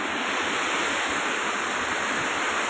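Mallalli waterfall roars in a dense, constant rush of falling water, loud and close, with nothing else heard above it.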